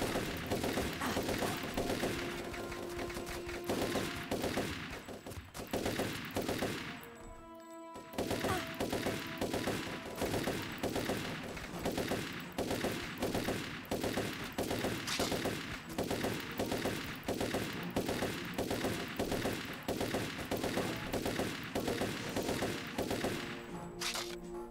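Continuous rapid gunfire fills a Turok 3 video game session, with dense rhythmic shots blasting almost without pause and one brief break near the middle, loud and close.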